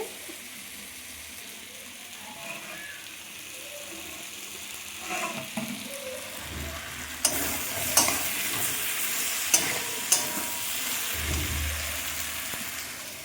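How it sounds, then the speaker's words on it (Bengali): Soft, steady sizzle of fish frying in a pan, with scattered clinks and scraping of a utensil stirring, fairly close and moderately loud. "মাছ ভাজা দেখো মাছ ভাজাও সব হয়ে গেছে"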